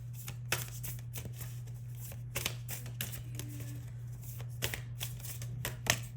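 Tarot cards are shuffled close up in quick, soft riffling bursts over a low steady hum.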